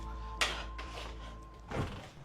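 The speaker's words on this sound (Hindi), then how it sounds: "पहले गेट खोल लेता हूँ फिर लेके चलता हूँ।" A heavy metal gate clanks and scrapes as it is pushed open, with a sharp bang and a grinding slide, close by and fairly loud.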